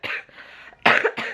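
A person coughs several times in short bursts, close and fairly loud, with brief pauses between the harsh coughs.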